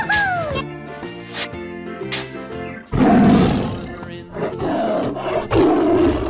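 A toy animal tiger roar plays alongside upbeat children's music, with growling bursts repeating several times at moderate loudness over the backing tune.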